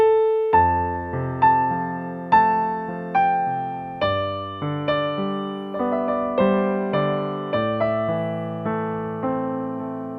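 A piano plays a piece with low bass notes under repeated broken chords and a ringing treble melody in a steady, flowing rhythm, clear and close with no voices.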